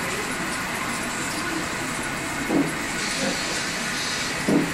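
A small train rolls slowly past with a steady hiss and rumble, punctuated by a few soft clanks from the cars.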